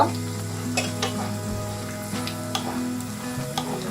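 Peanuts fry in a small kadhai with a few spoons of oil for thin-poha masala chivda, a steady close sizzle with occasional scraping stirs throughout.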